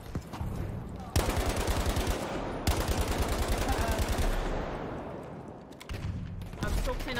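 Rapid bursts of StG rifle fire crack out in Battlefield V, dense repeated shots in several long strings amid other battle noise, with a player talking over the gunfire.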